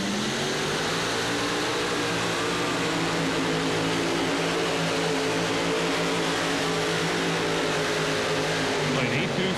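A pulling tractor driven by five 526 cubic-inch big block Chevrolet engines roars steadily and loudly at an indoor Monster Jam event in Houston, a dense sustained engine drone filling the whole stretch with crowd and arena noise mixed in.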